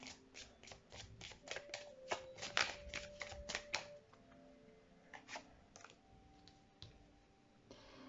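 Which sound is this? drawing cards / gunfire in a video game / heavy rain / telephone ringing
drawing cards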